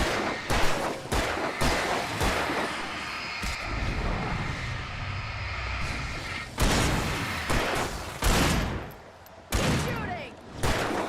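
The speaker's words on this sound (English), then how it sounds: "Shooting!" Gunfire in the video game Alan Wake: repeated sharp bursts of shots, some in quick clusters, loud and close, with voices and game sounds in between.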